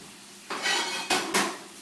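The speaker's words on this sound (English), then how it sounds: "spoon in a little of these escargots into each of them" A spoon clinks against serving dishes while escargots are spooned in, with a few short scraping and clattering metal-on-ceramic sounds, close and moderately quiet, with no talking.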